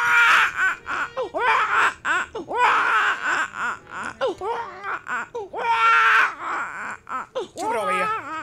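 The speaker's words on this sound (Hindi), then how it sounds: "कोई बच्चा रो रहा है। बच्चे की आवाज है?" A baby cries in loud, repeated wails and sobbing bursts, close and continuous, inside a Bhojpuri nautanki stage performance.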